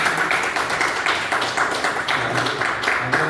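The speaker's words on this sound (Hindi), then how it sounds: "तो एक बार बजा दीजिए ताली" An audience at a business meeting claps in a steady, fairly sparse rhythm, individual hand claps audible at a moderate distance with no talk over them.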